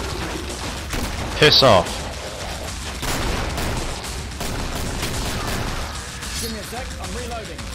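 Gunfire in the shooter game Killing Floor, rapid bursts of shots cracking close and loud over a steady din of combat, with someone talking and swearing over the action.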